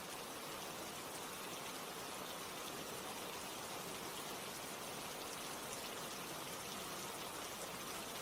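Steady rain falls without pause, a dense even hiss of drops at constant moderate loudness with no voices.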